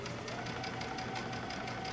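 Sewing machine running a long basting stitch at about 3.5 length through layered fabric pieces for a reading pillow, a steady continuous motor whir with rapid even stitching, close and alone.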